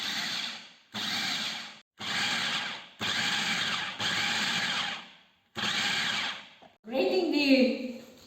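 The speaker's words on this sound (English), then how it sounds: "make sure your food processor is on pulse mode only, because we do not want it into really fine mince." A food processor pulses chicken into mince in a home kitchen, six short, loud whirring bursts of about a second each with brief silences between, and a voice speaks over the motor in the final pulse.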